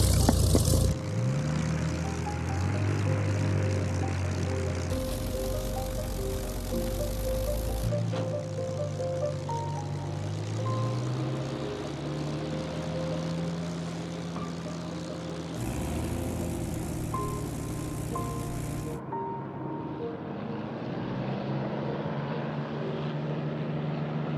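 A Spitfire single-seat fighter plane's propeller engine roars loudly and steadily as the aircraft takes off, the drone swelling and shifting in pitch over a long stretch before easing off near the end.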